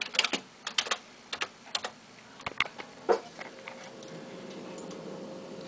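Keys clatter on a computer keyboard as a search term is typed, a quick burst of irregular close taps that fades into a faint steady hum of the machine.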